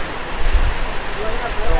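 Heavy rain falls at a pier on Koh Sukorn in strong wind, a loud, dense, unbroken hiss with low rumbling gusts, close and steady throughout.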